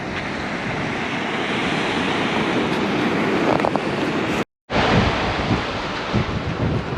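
Ocean waves break on the shore at Lucky Bay as a loud, steady roar of surf mixed with heavy wind buffeting the microphone, with a brief dropout midway.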